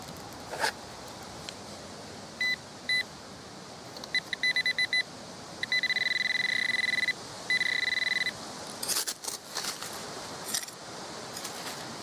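A metal detector sweeps over ground by urban trash piles and gives a penny-like signal, its tone ringing up in short repeated beeps that build into two sustained chirping bursts over quiet background noise.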